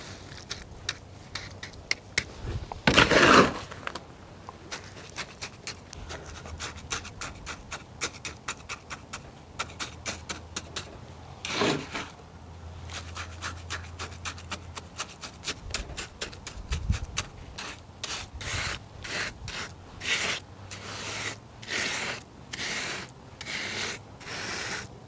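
Wet concrete is spread and pressed over a rhubarb leaf with scraping, dabbing and rubbing sounds in an irregular stop-start pattern, close and fairly quiet, including a few louder scrapes.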